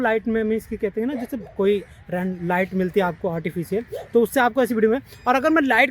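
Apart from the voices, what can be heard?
None of the usual background noises is heard.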